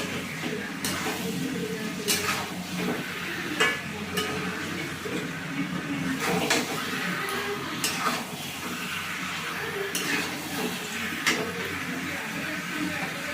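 Mutton and fried potatoes are sautéed in a pan with a continuous close sizzle, punctuated by repeated scraping and clinking strokes of a spoon against the metal.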